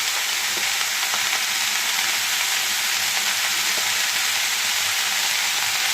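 Vegetables frying in a pan, a loud, close, unbroken hissing sizzle that holds steady throughout, with faint occasional ticks of spattering oil.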